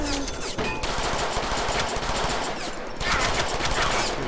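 Rapid automatic gunfire from Deadpool's gun, set to perforate, in the Deadpool video game, a dense continuous burst with a short break near three seconds before firing resumes loud and steady.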